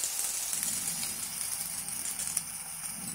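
Spring onions and ginger sizzle in hot oil in a pan, giving a steady, close frying hiss with a few small pops.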